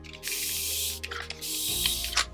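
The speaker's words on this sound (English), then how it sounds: "a little spray with isopropyl alcohol" Two quick hissing bursts from a spray bottle of isopropyl alcohol onto a tile, close up, with a short pause between them.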